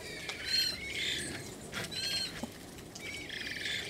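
Birds in an aviary squawking and chirping in a busy, overlapping racket, with occasional wing flutters, moderately distant and fairly faint.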